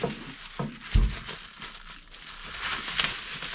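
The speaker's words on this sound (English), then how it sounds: "It's usually only 3 or 4 pieces of bubble wrap. Just kind of lay it down. Fold over the 2 ends." Bubble wrap is folded around a bat for packing, producing close crinkling and crumpling with a couple of sharper crackles and soft rustles throughout.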